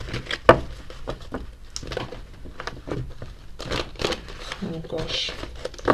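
A deck of oracle cards is shuffled with soft riffling and slapping sounds, quiet and close, mixed with light rustling.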